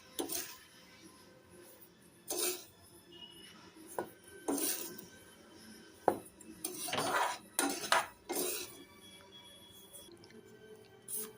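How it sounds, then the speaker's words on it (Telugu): Fried semolina (ravva) being scooped from a pan into a bowl, with a series of close metal spoon scrapes and clinks against cookware in irregular bursts over a quiet background, no talking. "ఈ వేయించి పెట్టుకున్న రవ్వ మొత్తం ఒక బౌల్లోకి తీసుకోవాలి."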